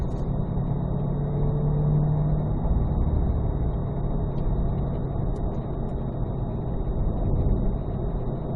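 Corvette Z06 on a race track in Vegas, its engine droning steadily and loudly throughout as the car pulls hard, with a continuous low rumble and no voices.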